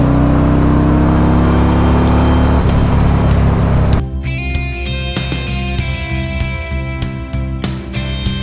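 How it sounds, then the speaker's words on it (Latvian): A 2026 Harley-Davidson Road Glide motorcycle exhaust revs loudly up close in a heavy, rough roar, then settles into a steadier, throbbing idle with ringing tonal overtones. "izpūtējiem ir tik superīga skaņa, ja, ka tā ir mūzika"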